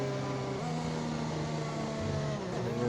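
Race car engine in a racing video game at Bahrain, a steady continuous drone with shifting harmonic tones as the revs change, loud and close, with no talk.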